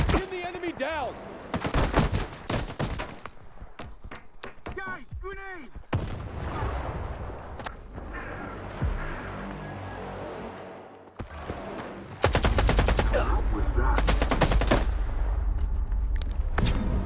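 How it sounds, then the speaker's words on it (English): Enemy gunfire and grenade blasts in the video game STALKER 2, dense loud volleys of shots and booming explosions rolling on continuously, with a heavier sustained barrage toward the end and no speech. "The enemies were shooting and throwing grenades"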